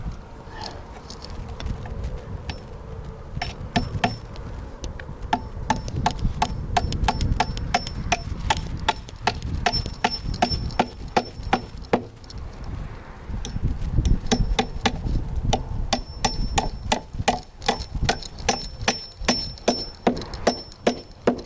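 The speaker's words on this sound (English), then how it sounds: "I'll knock this one in with a hammer." Steady hammering drives a piece of wood in while framing a gable roof overhang, with many rapid, crisp knocks in close succession running throughout, fairly near and moderately loud, with no talk.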